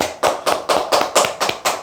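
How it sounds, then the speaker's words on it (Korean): Hands clap seven times in an even, quick rhythm, about four claps a second, each a sharp, close, loud smack with nothing else sounding. "이런 식으로 박수."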